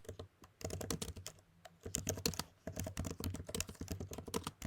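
Rapid computer keyboard typing, close and clear, with bursts of clacking keystrokes and a brief pause near the start.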